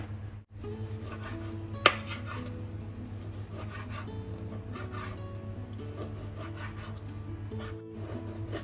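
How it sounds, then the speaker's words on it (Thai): Steady scraping and cutting of a knife working through pork cartilage bones on a board, with one sharp knock, over a constant low hum. "กระดูกหมูอ่อนนะคะ หรือว่ากระดูกใบพายค่ะ เดี๋ยวอุ้มจะหั่นก่อนนะคะ"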